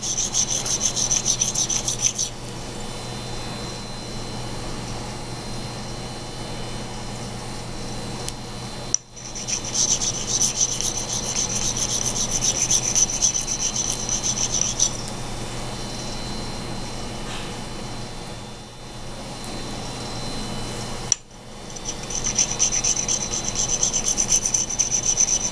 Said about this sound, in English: just polish. Taking out the tool marks.